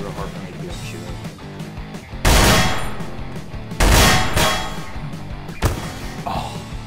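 Machine gun fire in the video game Garry's Mod, three separate loud bursts spaced a second or more apart over a steady game background, with someone talking in between.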